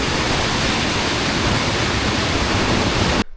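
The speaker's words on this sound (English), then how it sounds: "Nice creek." Rushing creek water near Tumbling Creek on a mountain trail, a loud, steady broadband wash that fills the clip close by and cuts off abruptly just before the end.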